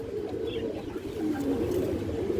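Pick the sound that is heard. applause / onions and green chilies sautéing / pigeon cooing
pigeon cooing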